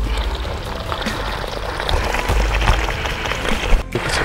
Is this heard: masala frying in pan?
no